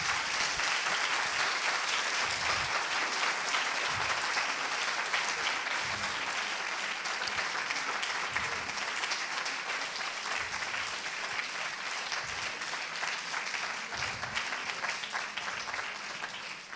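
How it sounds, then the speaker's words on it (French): An audience applauds Christophe André at an evening talk, sustained dense clapping from a large crowd that carries on evenly for the whole stretch without voices. "Christophe André, mesdames, messieurs, on peut l'applaudir"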